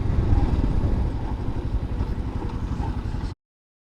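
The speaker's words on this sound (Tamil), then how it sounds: "இப்போ நம்ம 60 to 0 ரியர் பிரேக்ஸில் எவ்வளோ ஸ்பீடாக ஸ்டாப் ஆகுதுன்னு பார்ப்போம்" A 400cc motorcycle rumbles with engine and wind noise as the rider brakes from 60 km/h to a stop using the rear brake, a steady low roar that gradually softens before cutting off abruptly.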